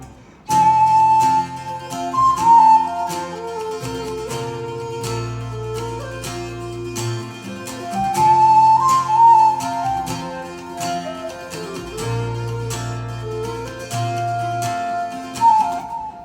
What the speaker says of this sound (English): I was trying to compose a little tune on the whistle.